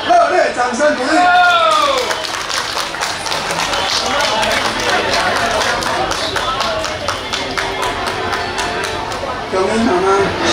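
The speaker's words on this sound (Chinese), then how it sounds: "请大家热烈掌声鼓励" Applause and crowd noise fill a Mother's Day honoring ceremony for model mothers in Yuanchang Township, with steady clapping at a dense, even level throughout, mixed with an amplified voice and chatter.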